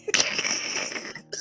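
A quick, close sneeze bursts out near the start, followed by a breathy hiss and a short sharp sound at the end.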